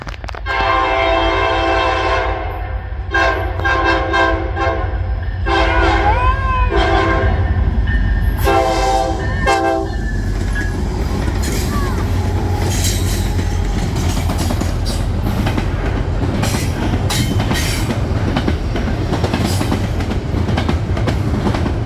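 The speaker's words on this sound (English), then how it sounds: "11R would have another CSX locomotive, SD70 MAC number 4531. Again, coming off the MEC/CSX." A CSX SD70MAC diesel locomotive in fresh paint passes close and loud, its horn sounding in several blasts before the steady roar of engine and rolling wagons fills the rest of the pass.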